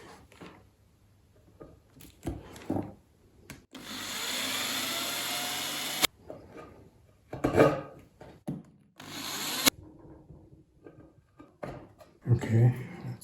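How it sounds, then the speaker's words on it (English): A power drill whirs in two sustained bursts of a few seconds each, drilling into a block of wood beneath a 1/200 scale model ship hull, separated by scraping, rubbing and handling noises. "And of course I have to come in with the big drill, just put a block of wood underneath"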